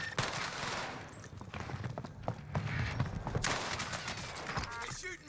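Enemy gunfire in Call of Duty Warzone on Rebirth Island or Fortune's Keep, quiet rapid automatic bursts and scattered single shots rattling on and off, mixed with footsteps and in-game noise.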